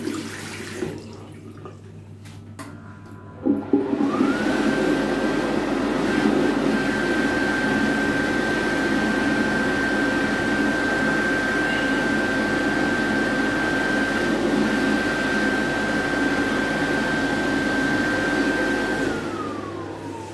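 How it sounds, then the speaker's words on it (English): A Warner Howard SM48 hand dryer starts after a few seconds of quiet fumbling, then blows a loud, steady roar with a high whine for about fifteen seconds before it winds down. "And here we've got a Warren Howard SM48 hand dryer."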